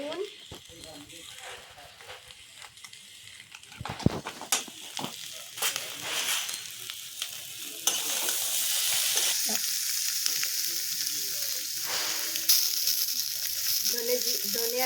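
Fish frying in a pan with turmeric and salt, sizzling and crackling up close with stirring clatter and a sharp knock; the sizzle grows louder and steadier in the second half.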